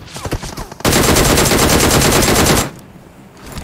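Sustained automatic gunfire in an online shooter game, a loud, close, rapid burst lasting about two seconds, preceded by quieter game sounds and followed by a drop to near silence.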